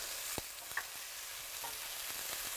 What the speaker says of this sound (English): Just added my onions in, and I'm going to soften them down. Now I'm going to add in my tomatoes.